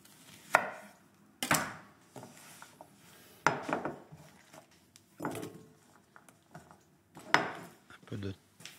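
A knife cuts through an onion on a board while preparing a white chicken stock, producing several distinct, fairly quiet chopping thuds spaced about a second apart, close up and without talk.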